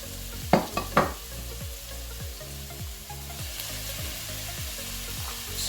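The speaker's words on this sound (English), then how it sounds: "Now I'll add my mixed vegetable" Mixed vegetables tipped into a hot pan for chicken couscous, a couple of clattering thumps as they land, then a steady sizzle with repeated scraping stirs in a regular rhythm, close by.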